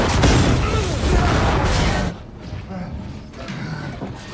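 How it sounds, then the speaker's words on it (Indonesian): In an action film about Nazi-made undead experiments, a gas cylinder explodes in a loud, roaring blast with crashing debris for about two seconds. Quieter rumbling and creaking follow. "Buzz gantian menolong Ford dengan menembak sebuah tabung gas yang ledakannya membuat Wagner terpental ke sebuah lubang."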